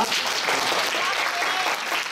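An audience applauds a lawyer's talk at a high school chapel service, steady dense clapping filling the space throughout at a moderate level, with no break.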